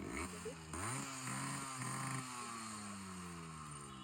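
An old two-stroke Yamaha RX100 motorcycle runs close by, with a couple of quick throttle blips early on before the raspy engine settles into a steady, slowly falling buzz, heard alone without voices.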